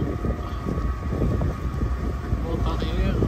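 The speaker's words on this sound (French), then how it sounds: "Là il y a 8 nœuds de vent" Wind buffeting around a sailboat in about 8 knots of breeze with storms building, a steady broadband rush with low rumble from the motor running, continuous and fairly close throughout.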